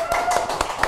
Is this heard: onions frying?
no